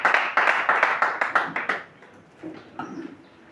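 A church congregation breaks into a burst of rhythmic hand clapping in acclamation of the Lord, strong and even for nearly two seconds before fading to a few scattered claps and faint voices.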